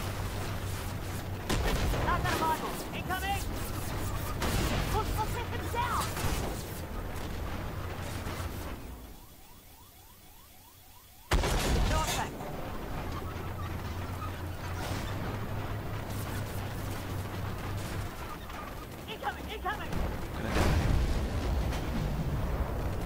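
Artillery fire in Armored Warfare, tank combat with repeated sharp blasts and booming explosions, including a loud impact after a brief quiet stretch, amid constant engine rumble.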